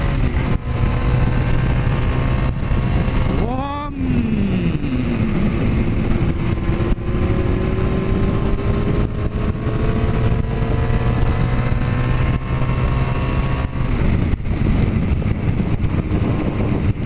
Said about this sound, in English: Still haven't sorted out the blowing exhaust.